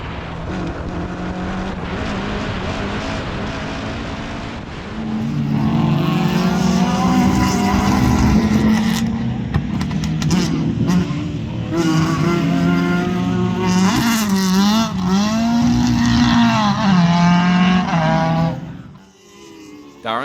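Onboard a Rothmans Opel Manta 400 rally car at a rally at Pallas Karting in Galway: a steady, loud engine drone climbs and falls in pitch through gear changes as the car is driven hard, with a commentator talking over it.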